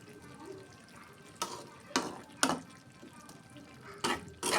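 A spoon stirs dal in a cooking pan alongside pumpkin, potato and greens, giving a few sharp scraping scrapes and knocks against the pan over a faint background hiss.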